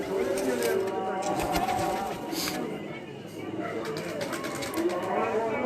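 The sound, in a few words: pigeons cooing at pigeon flying competition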